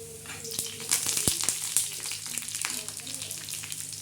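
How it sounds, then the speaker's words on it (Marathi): A masala paste roasts in a hot pan with a close, crackling sizzle, broken by sharp spoon knocks and scraping as it is stirred, steady and fairly loud throughout. "आता खरपूस असा मसाला आपण मस्त भाजून घेणार आहोत"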